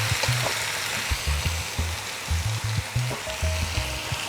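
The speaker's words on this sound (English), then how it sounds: "when it sounds sizzling, like it's sizzling rather than simmering" Steady sizzling and frying of spaghetti in a hot pan, with a constant hiss and soft scraping knocks from stirring throughout.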